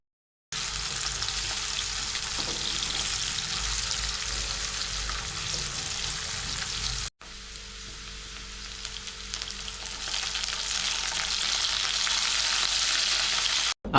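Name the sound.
onions and tempering seeds frying in oil in a pan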